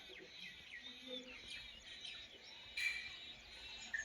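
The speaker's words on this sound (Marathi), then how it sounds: "मस्त सकाळ सकाळी इथं पक्ष्यांचा किलबिलाट" Small birds chirp and twitter at a distance on a village morning, with thin overlapping calls over quiet background hiss.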